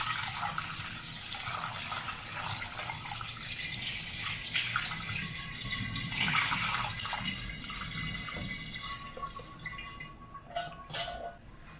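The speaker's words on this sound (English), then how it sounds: "Let's go ahead and pour it in and start getting the sugar mixed up." Warm water poured from a container into a mead-making bucket holding sugar, a continuous gushing, splashing pour that runs steadily and close by, with a few clinks and shifts near the end.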